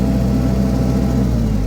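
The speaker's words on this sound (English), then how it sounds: "Like you see, I rev it up," Engine of a Wacker Neuson SM100 mini skid steer runs at a steady elevated rev with a low, even drone, sounding close and continuous with no talk over it.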